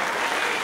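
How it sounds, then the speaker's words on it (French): Audience applause at a school fashion show, a dense, steady burst of clapping from a crowd, loud and close, filling the whole brief moment. "Je pense qu'ils méritent une autre main d'applaudissement."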